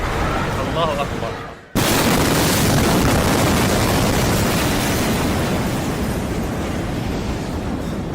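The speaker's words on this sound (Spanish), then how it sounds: "Las explosiones que sacudieron a Beirut el martes pasado impactaron al mundo por su potencia" News recording of the explosion in Beirut: a quiet moment with a chanting voice, then a sudden massive blast that turns into a sustained, loud, wide roar and rumble lasting several seconds.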